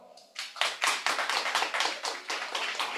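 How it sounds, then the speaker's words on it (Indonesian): A small crowd claps together in steady, rapid applause lasting a few seconds, starting after a short quiet moment and holding at a fairly even level. "tepuk tangan dong."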